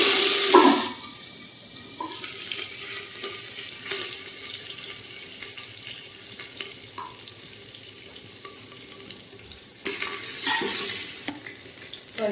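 Onion and curry leaves frying in oil in a pan over a wood-fired village stove, a continuous hiss with intermittent stirring scrapes and clinks that swells near the start and again toward the end.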